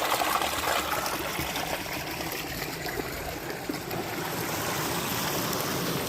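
Water rushes steadily from a partly opened valve, a continuous broadband gush with a low churning rumble, close and fairly loud for the whole stretch, with no voices.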